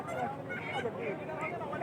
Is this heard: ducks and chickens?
yes